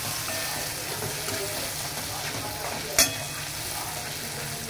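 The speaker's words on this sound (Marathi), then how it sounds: "हा भेजा तेलामध्ये चांगला आपण फ्राय करून घ्यायचा।" Goat brain frying in hot oil with masala as it is stirred, a loud continuous sizzle and hiss close by, broken by one sharp clink of the utensil against the pan.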